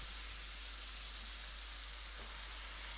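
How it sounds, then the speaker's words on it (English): Stock sizzles in a pan with mushrooms and garlic at a cookery demonstration, a steady faint hiss of frying with no talking over it. "You can hear it sizzling."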